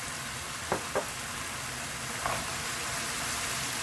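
A steady, crackling sizzle of soy-sauce pork stir-frying in a hot pan, with a few soft clinks of a utensil near the start.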